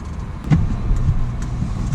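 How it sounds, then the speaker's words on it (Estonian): A car engine runs steadily with a low rumble throughout, close by, with a couple of brief clicks or rattles near the start. "Hea meel teatada teile, et auto käib ja sõidab."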